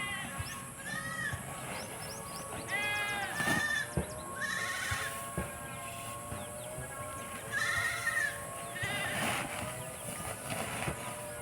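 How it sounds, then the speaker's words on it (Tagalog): Goats bleating repeatedly on a farm, several loud wavering calls spaced across the clip over a constant background hum. "tinatawag na tayo ng kambing"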